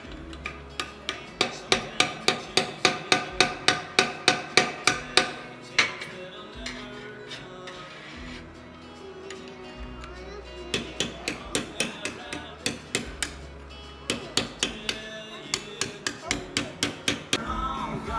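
Metal hammering on a farm gearbox hub to knock loose a bolted hubcap cover: rapid runs of sharp, ringing blows close by, pausing briefly between bursts, with a quieter scraping lull in the middle.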